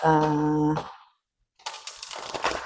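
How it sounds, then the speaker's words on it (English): Oracle cards are shuffled by hand in a few quick riffling bursts, crisp papery flutters close to the microphone, following a brief sustained tone and a short moment of silence. "I forget her name right now as I'm shuffling the cards."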